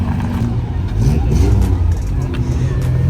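A Hillman car pulls away from a car meet, its engine note loud and close as it accelerates steadily, with chatter in the background.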